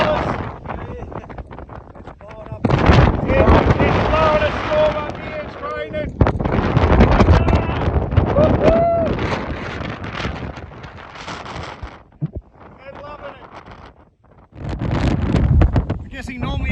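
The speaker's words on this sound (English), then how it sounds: "She's a little blowy at the top of Mount Abrupt" Strong gusty wind on the summit of Mount Abrupt in the Grampians buffets the microphone in loud roaring bursts that rise and drop, with people talking between the gusts.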